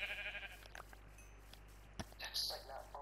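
A brown sheep in the video game Minecraft bleats a few short times over a faint hum, close and fairly quiet, with gaps of near silence between the calls.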